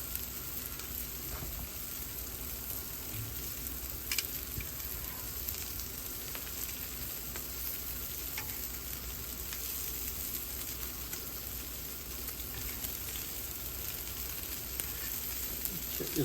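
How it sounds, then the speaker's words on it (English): Butter melting and sizzling on a Blackstone griddle for smash burgers alongside bacon, a steady, even crackling sizzle that holds at one level throughout with a few faint clicks and no talk. "melting the butter down, because it does take a few minutes to melt all the butter"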